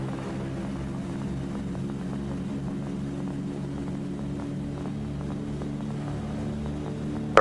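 B-24 bomber engines droning steadily in flight, a constant low multi-harmonic hum heard from inside the aircraft, even and unbroken throughout.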